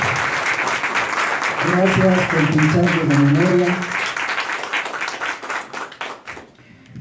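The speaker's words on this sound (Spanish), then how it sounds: "Por favor, un fuerte aplauso." A strong audience applause fills a packed hall at a public forum on dictatorship and democracy. Someone speaks over the clapping as it swells and then thins out and fades toward the end.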